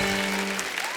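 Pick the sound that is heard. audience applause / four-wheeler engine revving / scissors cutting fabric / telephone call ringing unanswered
audience applause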